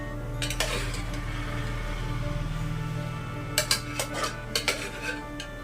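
Vegetables sauté in a pan with a soft continuous sizzle at first, then a spoon scrapes and clinks against the metal in a quick series of close, distinct strokes.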